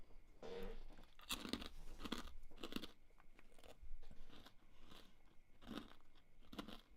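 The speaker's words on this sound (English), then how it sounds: "Crunchy mushroom eating." A crunchy mushroom chewed close to the mic in ASMR style, with crisp, separate bites and crunches spaced every second or so, some in quick pairs, over quiet background and no talk.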